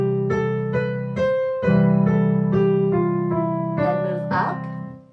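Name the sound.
piano scale pattern with chords moving up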